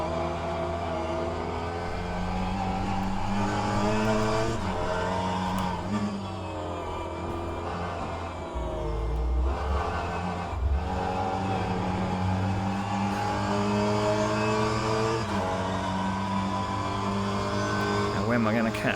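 Mini Cooper race cars in rFactor 2 at Sebring's club circuit, a steady droning engine note shifting pitch through gear changes and corners, constant and close throughout.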